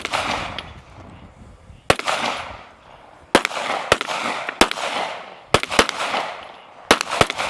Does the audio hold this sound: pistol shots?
yes